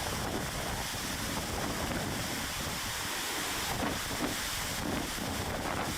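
Gusty seaside wind near the shore at Osu, Accra, roaring across the microphone in uneven surges over a constant hiss, with nobody talking.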